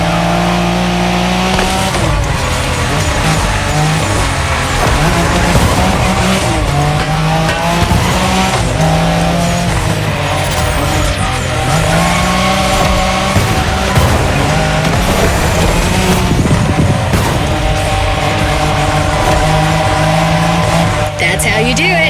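Drift car from The Crew Motorfest roars continuously at high revs with shifting engine pitch and sustained tire squeal, loud and close throughout, with a voice talking over it.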